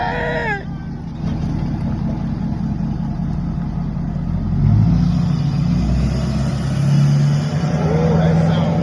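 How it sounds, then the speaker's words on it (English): A truck engine rumbles steadily with a rising whistle of turbo spool, loud and close, a brief vocal sound near the start. "that thing's spooling up like a damn 18-wheeler turbo or something"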